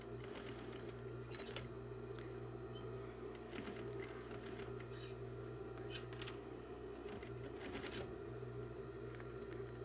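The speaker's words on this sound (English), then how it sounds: "we're going to sew that. Watch out for your pins. I'm just going to sew it a 1/4 inch down." A sewing machine stitches fabric a quarter inch from the edge on a jumbo welt braided tieback, with a steady close mechanical whir and hum and light irregular clicks and rustling throughout.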